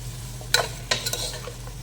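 Koosa vegetable sautéing in oil, low steady hiss with two quick scraping stirs close by and a few light clinks, no speech.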